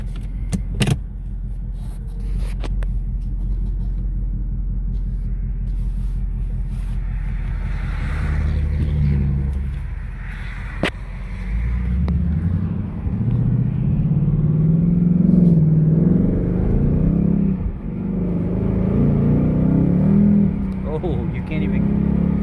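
A 2020 Ford Mustang 5.0 drives in sport mode with its electronic exhaust cutouts open, giving a steady deep engine rumble that swells with revving, while people talk over it inside the car.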